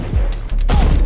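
Quick video-game gunfire, a few sharp close shots with a brief mechanical click in between, then a heavier burst of rapid shots.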